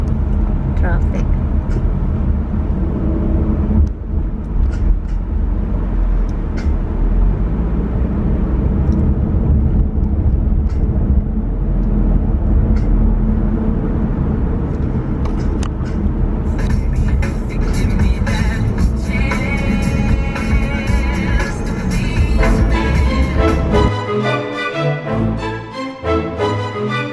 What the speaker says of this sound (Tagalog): It's just traffic here.